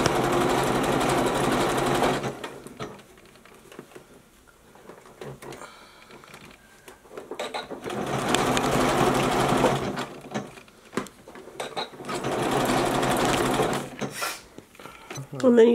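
Sewing machine stitching elastic onto swimsuit fabric, running in two loud sustained bursts of rapid whirring with a quieter pause between, plus a final short burst; a person talks during the pauses.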